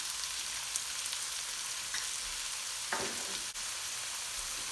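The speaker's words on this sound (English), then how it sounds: "as this is just sizzling away" Tandoori chicken curry sizzles steadily in a hot pan, a bright continuous frying crackle with a couple of louder pops. No one speaks.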